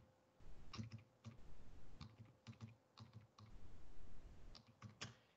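Credit card details typed on a computer keyboard, bursts of quick close key clicks with short pauses between, faint and without any voice.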